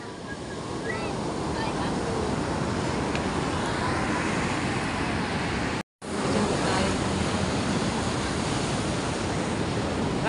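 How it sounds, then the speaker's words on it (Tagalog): A strong river current with waves near a river mouth makes a loud, steady rushing roar with wind buffeting the mic, broken by one brief dropout partway through. "Lakas po ng tubig."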